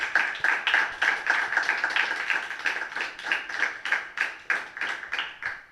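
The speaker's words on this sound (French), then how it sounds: "À l'instant, Madame, Messieurs, sous vos applaudissements, le colonel Nyanga" An audience at a civil society and NGO council meeting applauds as a colonel is introduced, producing a steady, rhythmic round of many clapping hands that holds a fairly even pulse for several seconds with no talk over it.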